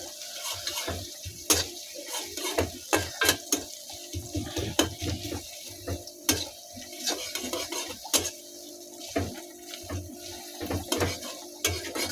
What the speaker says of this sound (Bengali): এইভাবে করে আপনি পেস্টটা ভেজে নেওয়ার পর